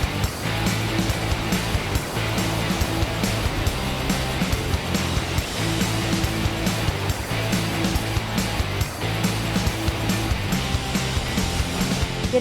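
Ocean waves at Pangandaran beach in Indonesia wash in as a steady, loud broadband roar with repeated surges every couple of seconds, continuous and close, with no talk over it.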